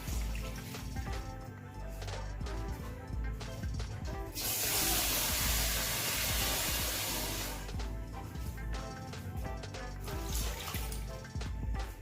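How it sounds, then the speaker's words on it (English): Water poured into a pot of bitter leaf while cooking Benin-style black soup, a dense rushing splash that swells loudly in the middle and then eases back, no talking. "We'll add some water to it."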